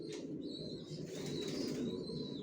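Racer pigeons in a loft give soft low cooing and rustling, with faint chirps above, steady and close, no voices.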